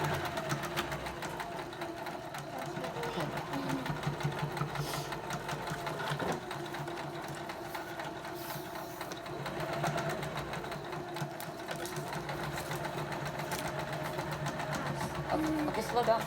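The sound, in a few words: sewing machine sewing pyjamas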